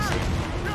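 A ship's mortar fires in the naval game Assassin's Creed IV Black Flag. It makes a loud, heavy boom that fills the brief moment, with a voice partly overlapping.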